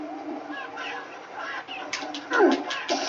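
Chickens cluck in the Resident Evil 4 video game, a series of short clucks over steady game background sound, with no talk.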